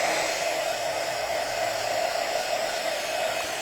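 A hair dryer drying freshly brushed Ivory Waverly chalk paint runs as a continuous, steady close-up whoosh and whine, unbroken throughout with no talking.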